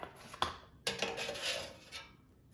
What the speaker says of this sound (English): So let's take it out of the air fryer.